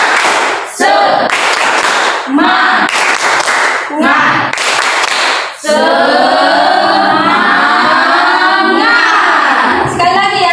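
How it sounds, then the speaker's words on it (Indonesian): An audience at an Indonesian gathering does rhythmic spirit clapping, the tepuk semangat, with loud patterned bursts of claps separated by short gaps. Later the claps run into sustained cheering and voices. "Kita akan membuat tepuk semangat pada siang hari ini."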